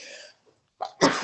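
A single sharp sneeze bursts out after a brief quiet, loud and close, preceded by a short sharp inhale.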